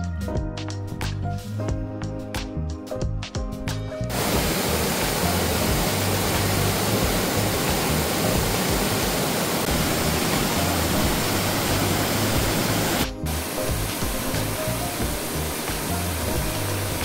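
Caunayan waterfall in Aurora roars as a steady, dense rush of falling water heard up close, with a brief burst of other noise before the roar settles in and continues unbroken.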